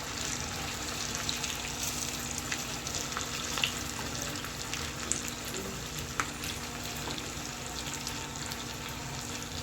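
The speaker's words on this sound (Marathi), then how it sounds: "तेल पण आपलं चांगलं तापलंय त्याच्यात ही वडी टाकूया त्याची आपण वडी सोडूया आणि दोन्ही साईडने आता खरपूस आपल्याला भाजून घ्यायचं आहे" Coriander fritters (kothimbir vadi) shallow-fry in hot oil, producing a faint, even sizzle with scattered small crackles and pops throughout, with no voices.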